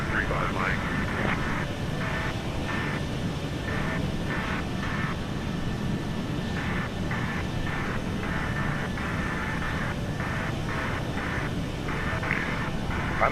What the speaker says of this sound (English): I'm hearing these general aviation planes.